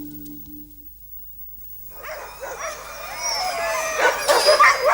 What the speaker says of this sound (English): The dogs we used were bred specifically for racing and had scientifically formulated diets.